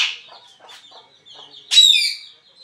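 Chickens cluck softly in short bursts, then one lets out a louder, sharper call nearby.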